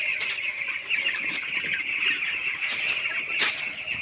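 Broiler chickens, twelve days old, cluck steadily and close by while drinking Gumboro vaccine water in a poultry shed of about 500 birds, with overlapping calls and no talking.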